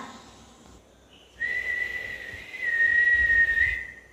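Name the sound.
person whistling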